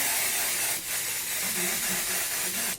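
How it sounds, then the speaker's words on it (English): A steady hiss of lace tint spray from an aerosol can runs continuously, close and fairly loud, with a brief dip partway through. "I'm gonna go ahead and add my lace tint spray"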